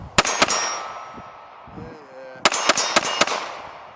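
Colt Night Defender lightweight pistol firing, sharp loud cracks: two quick shots, a pause, then a rapid string of about five more with ringing tails, a person speaking briefly in between.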